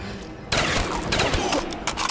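Gunfire in a Call of Duty zombies round on a lighthouse map, a dense burst of rapid shots starting after a brief quiet lead-in and continuing loud and steady to the end.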